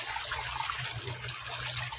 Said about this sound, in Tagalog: ito parang may kanal na maliit na may tubig na